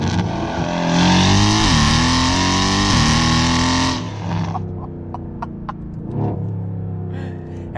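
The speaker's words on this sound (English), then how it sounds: "because the engine sounds so great, having a lightning fast transmission means you can actually get to experience those incredible burbly noises" Mercedes-AMG GT engine revving loudly, swelling twice then cutting off into a string of sharp burbly exhaust pops and crackles as it settles to a low idle.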